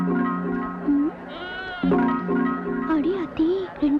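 Goats and their kids bleat in wavering, repeated calls mixed with human voices talking over them.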